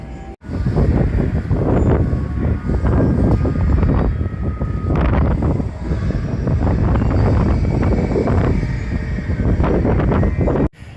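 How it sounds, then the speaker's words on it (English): Outdoor wind at a theme park resort, a light breeze picking up as a continuous loud rushing buffet against the microphone, with swelling gusts for the whole stretch. "the wind's picking up as I'm saying this, but it is just a breeze"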